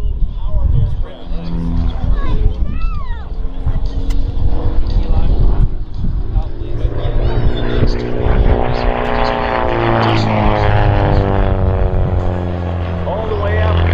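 Pitts aerobatic propeller airplane flying a formation snap roll routine at the 2023 MCAS Beaufort air show, a loud sustained engine drone with shifting pitch throughout, heard under a continuous announcer's voice over the public address.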